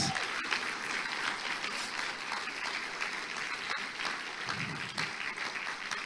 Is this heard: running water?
no